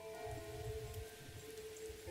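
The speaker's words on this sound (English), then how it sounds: "the sound of raindrops" Rain falling as a sound effect in the Seduce Me otome game: a soft, steady patter of drops over a low rumbling bed and faint tonal hum, quiet and continuous.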